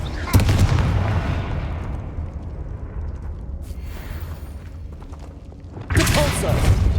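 Confringo, a fiery blasting spell, is cast in Hogwarts Legacy, a sharp explosive burst followed by a rumbling decay, then a second loud blast near the end, with speech nearby.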